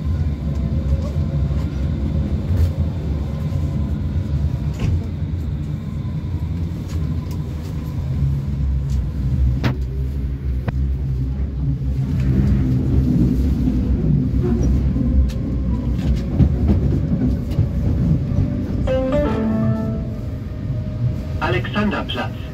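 Berlin U-Bahn line U2 G1/E train, car 1078-4, riding toward Pankow: a steady low rumble of wheels and motors fills the cabin throughout, with occasional squeals and clatter, swelling slightly midway.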